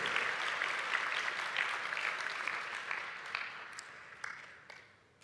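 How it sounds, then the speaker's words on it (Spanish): A church congregation claps steadily and hard, a dense rattle of many hands that gradually thins and fades toward the end. "Aplaudan fuerte en esta hora, eso nos da esperanza."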